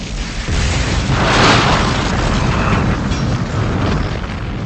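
A starship saucer explodes and burns in the Star Trek III film: a loud, sustained roaring blast that swells about a second in and then rumbles on, with no voices over it.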